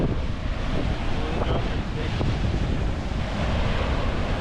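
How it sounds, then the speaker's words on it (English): Massive ocean waves surge and crash along a volcanic coastline, a steady broadband roar with strong wind buffeting the microphone throughout. "Massive waves here."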